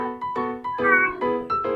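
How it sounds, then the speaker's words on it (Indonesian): A cat meows several times in a row, each cry clear and fairly close, with short pauses between calls. "Ada ucing meong."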